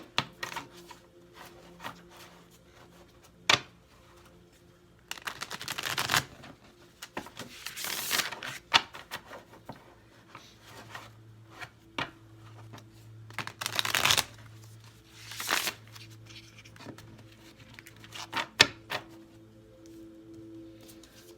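Light Seers Tarot cards are shuffled by hand, producing soft scattered riffles, taps and papery rustles over about twenty seconds, faint and close with a low background hum and no talk.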